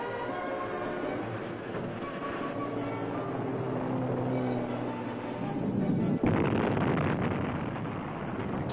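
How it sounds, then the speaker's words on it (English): Rock blasting in a canyon during Hoover Dam construction makes a continuous heavy rumble on an old film soundtrack, then swells into a louder explosive roar near the end. "Explosions rocked the canyon almost daily for 2 years before actual placing of concrete in the dam began."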